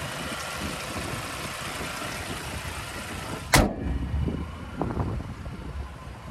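A 2024 Toyota Tacoma SR's 2.4-litre turbocharged four-cylinder idles with a steady, close engine hum and broadband noise, broken midway by a single sharp clunk, then settles into a slightly quieter idle.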